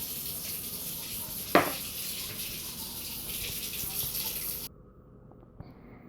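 Water pours steadily from a container into a Ninja Foodi pot while preparing a ham casserole, a close, continuous splashing hiss for several seconds that cuts off abruptly, followed by quiet room tone and a small clink.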